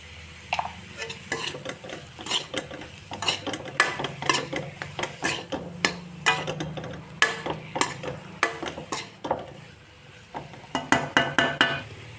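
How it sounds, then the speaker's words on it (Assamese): Panch phoron spices frying in a pan for a raw banana fish curry, with repeated clinks and scrapes of a spoon against the pan over a soft sizzle, close by and without speech. "এতিয়া এইখিনি মই 5 মিনিটমান ভাজি ল'ম।"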